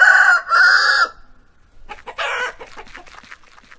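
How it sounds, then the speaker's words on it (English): Loud, close chicken crowing with clucks: two long sustained crows at the start, a short pause, then a further crow and a run of rapid clucking, all alone with no talk. "This is a chicken."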